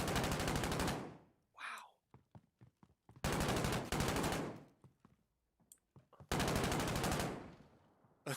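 Enemy gunfire in a video game, heard as long loud bursts of automatic fire alternating with short scattered single shots and brief gaps between volleys.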